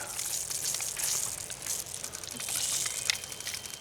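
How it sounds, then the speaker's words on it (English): Water gushes steadily from the pump-fed outlet of a BougeRV rechargeable propane camping water heater, a continuous hissing spray that stays close, fairly loud and even for the whole stretch, with no talk. "So when I cut this on, the pump will turn on, and there is our water supply"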